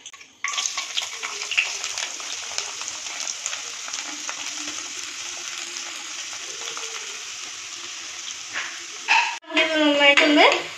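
Onion, green chilli and ginger sautéing in a pan for a Malayalam-style fish curry, giving a steady close sizzle and frying hiss with stirring clatter that continues almost alone, then briefly louder near the end.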